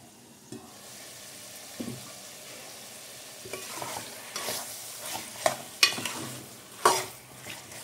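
A spoon stirs a chicken donne biryani mixture, Karnataka style, in a pot, giving faint, sparse scraping strokes that grow a little more frequent toward the end over a quiet background.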